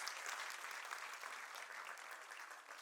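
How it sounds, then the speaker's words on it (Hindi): Audience applause at an education and entrepreneurship awards summit comes as steady, moderately faint crowd clapping that keeps an even density throughout. "बहुत ही लो वेरिएशन में तालियां आ रही हैं"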